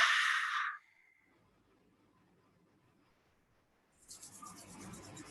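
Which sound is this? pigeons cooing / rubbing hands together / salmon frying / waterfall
rubbing hands together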